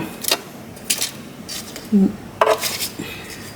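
Potatoes being turned over in a metal air fryer basket, producing a few separate clattering, scraping clinks spaced over a few seconds, close and moderately loud with no talking.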